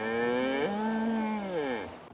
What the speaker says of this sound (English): I just showed 2 Jersey cows